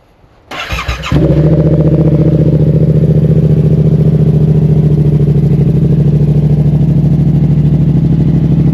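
A Yamaha R7 motorcycle with a new exhaust cranks, catches and settles into a loud, steady, throaty idle right up close, rumbling continuously with no talk.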